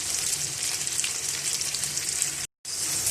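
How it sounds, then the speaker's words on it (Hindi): Okra pieces fry in about half a cup of oil, giving a steady, close, dense sizzle with fine crackle that runs continuously, broken only by a brief silent gap near the end before resuming. "तो थोड़े से ऑयल के अंदर मैं भिंडियाँ डाल दूँगी। तकरीबन आधा कप ऑयल था और इनको मैं फ्राई करके निकाल लूँगी।"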